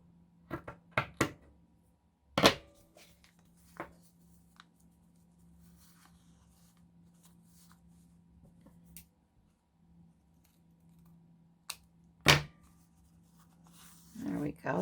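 Scissors cutting vintage sewing instruction sheet paper for junk journal pockets, giving a few sharp, quiet snips spaced apart against a soft background hum.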